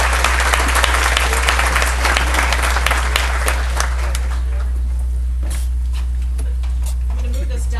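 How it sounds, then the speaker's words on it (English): A crowd claps at a Veterans' Voices award ceremony as the Minnesota Humanities Center board chair walks up, the dense applause fading out over a low steady hum, followed by faint shuffling and quiet room noise. "Give her a round of applause as she comes up"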